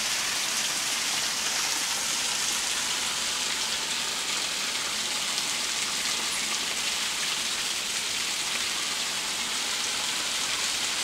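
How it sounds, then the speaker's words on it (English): Hard rain pours steadily on a Florida garden in a storm, a dense, loud, unbroken hiss of drops on surfaces with no let-up throughout. "Anyway, this is hard rain."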